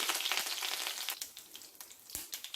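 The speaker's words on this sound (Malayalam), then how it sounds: "ചൂടായ എണ്ണയിലേക്ക് നമുക്ക് കുറച്ച് കടുക് ഇട്ട് കൊടുക്കാം" Mustard seeds, dried chilies and curry leaves crackle and sizzle in hot oil for a tempering, a dense near hiss with sharp popping that thins out partway through, no voices.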